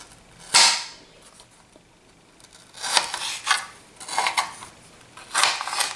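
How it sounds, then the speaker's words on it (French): A knife slices carrot sticks into thin batons on a board. A few sharp, crisp cuts land clearly and close, with short pauses between them and no talking. "J'ai pris les petits bâtonnets de carottes que je vais réduire en fines bâtonnets comme ça."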